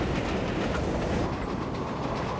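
A New York City subway train rumbles past, a loud, continuous roar of wheels and carriages with faint rhythmic clatter that holds steady throughout.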